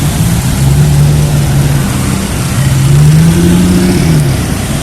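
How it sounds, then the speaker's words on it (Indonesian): Motor traffic passing along a busy Jakarta street near Karet Sudirman: a loud, continuous engine drone that swells and falls in pitch as vehicles go by, with steady road rumble underneath. "Karena ada kendaraan-kendaraan lain yang lewat."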